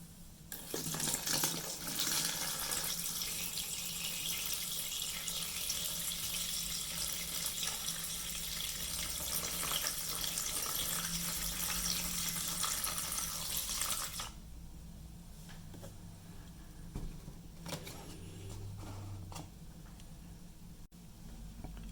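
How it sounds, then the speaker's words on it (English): Evapo-Rust rust remover poured from a container over rusted wire cutter pliers, a steady close splashing pour for about fourteen seconds that then stops, leaving faint dripping and settling liquid. "So I'm going to place the pliers here like that and put Evapo-Rust all over it, submerging it"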